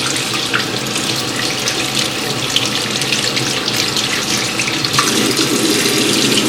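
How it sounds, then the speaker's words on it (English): Steady running warm water from a sink faucet while cleaning a makeup brush, a continuous close hiss and splash with no talking. "I am using like warm water from the sink."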